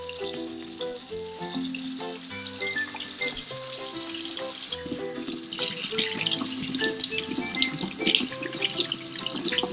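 Running tap water splashing over hands at a sink, a steady close rush of water with faint background tones throughout.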